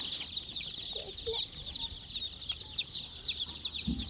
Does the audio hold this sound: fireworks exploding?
no